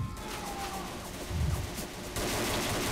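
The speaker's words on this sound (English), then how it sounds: "You can shoot through walls" Rapid automatic gunfire in the zombie shooter game Left 4 Dead, dense bursts of shots rattling loudly and continuously over a noisy battle background.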